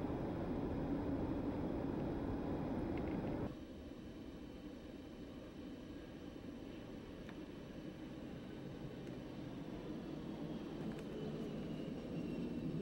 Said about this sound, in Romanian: Avionul, cum l-auzi?